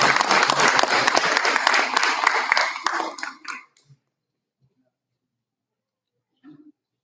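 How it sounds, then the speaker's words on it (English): Audience applause at a board meeting, a dense burst of clapping for about three and a half seconds that fades out, followed by near silence with a faint cough or shuffle at the end. "Let's have a round of applause for Ashley."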